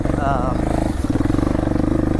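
A 1998 Yamaha Big Bear 350 4x4 ATV engine runs hard and steady close by, winding out near its limit with a rough, pulsing drone and a brief dip midway, with no speech over it.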